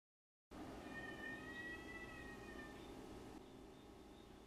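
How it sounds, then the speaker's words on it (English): A cat meows in a long, drawn-out wail after a brief silence, fairly close, followed by quieter background hum. "That's my cat."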